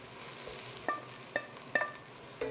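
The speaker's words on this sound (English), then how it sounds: "They have reduced in volume, and we keep frying them in one pot." Wilted vegetables fry in a single pot for Austrian beef goulash, giving a soft continuous sizzle broken by several light stirring clinks and scrapes, close and quiet with no talk.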